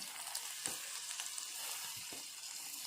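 Tomatoes and browned onion frying in a pan, a steady soft sizzle running throughout with a couple of faint stirring knocks, close and alone without any talk.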